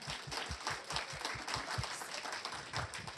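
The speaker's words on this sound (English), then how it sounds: "we can clap for that" An audience at a county board of commissioners meeting claps steadily with dense, overlapping hand claps, moderately loud and continuous throughout.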